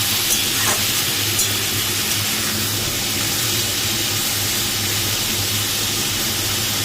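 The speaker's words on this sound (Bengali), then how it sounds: "এটা লাউ শাকটা এর মধ্যে পাঁচফোড়ন দিয়ে সবজিটা দিয়ে এই যে ভাজছি" Bottle gourd greens frying in a pan with panch phoron, a loud, dense, steady sizzle and hiss over a low hum, close up with a few faint clicks early on and no voices.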